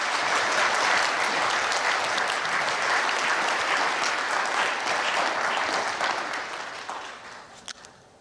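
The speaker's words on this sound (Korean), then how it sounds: "같이 한번 박수 한번 치겠습니다" A church congregation claps together at a Sunday worship service, a dense and loud sustained applause that fades out over the last couple of seconds.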